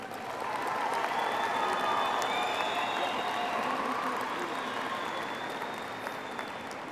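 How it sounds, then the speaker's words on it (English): Crowd at a Colorado Springs and Palmer High School graduation applauding the graduates, steady massed clapping with a few cheers and whistles mixed in, sustained throughout and easing off slightly toward the end. "Please give a round of applause for all the graduates"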